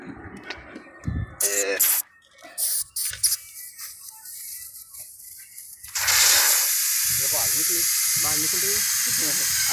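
Hissing air from the hydraulic pump of a Mahindra 275 DI XP Plus tractor: after several seconds of someone talking amid clunks, a loud, steady hiss comes in close and continues while he keeps speaking.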